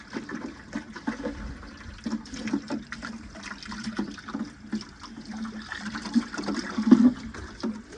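Water and loose sand debris from the bottom of a neglected aquarium tank are drawn up through a siphon pipe, giving a steady close gurgling, trickling flow with small splashy surges and no talk.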